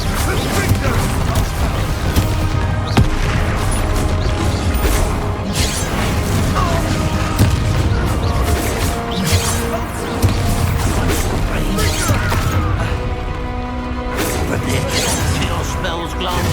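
Spell blasts and impacts from a fast Hogwarts Legacy battle, dense crashing booms layered over constant game music and combat noise, with voices shouting spell names throughout.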